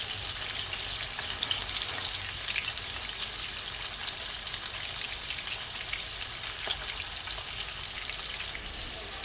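Whole cleaned butterfish frying in hot oil, giving a loud, dense, continuous crackling sizzle that stays even throughout, with no talking.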